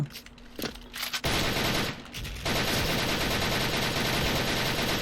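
An L85A2 rifle in the game Special Force fires in a few short bursts, then lets off a long, continuous, loud stream of rapid automatic gunfire at close range.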